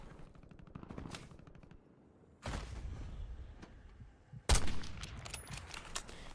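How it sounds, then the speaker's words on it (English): Bursts of rapid gunfire in Call of Duty, one volley early, then a louder, closer barrage of shots with sharp cracks near the end. "Gunshots are here."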